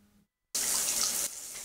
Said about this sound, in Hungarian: napjainkban a csapokból kiváló minőségű víz folyik